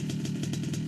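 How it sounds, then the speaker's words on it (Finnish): A moped engine idles close by with a steady, low, rapidly pulsing putter, alone and without voices. "Mulla on mopo."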